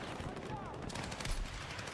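Rapid gunfire in a shooter video game, a dense burst of loud overlapping shots filling the whole moment, with game noise around it.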